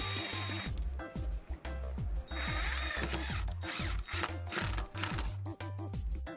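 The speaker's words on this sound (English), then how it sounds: "We then use screwdrivers to secure them into the strip." Power screwdrivers drive screws into a strip for a DIY console TV stand, giving repeated loud whirring bursts with brief pauses between screws, close and alone.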